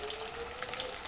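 Chicken fries until crisp in a pan, giving a faint, steady sizzle and crackle with no breaks and no voices.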